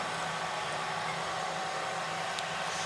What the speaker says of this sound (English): The tool just comes down while it's spinning and just cuts off the end